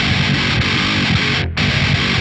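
A dense, heavily distorted metal guitar riff plays loud and continuous, shaped by an SSL-style EQ with a cut at 1 kHz and boosts around 4.5 and 10 kHz. There is a brief split-second dropout midway through.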